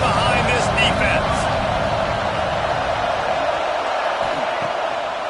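The crowd at an Illinois American football stadium roars behind its defense on a big third down. The dense, steady noise holds throughout and eases slightly toward the end.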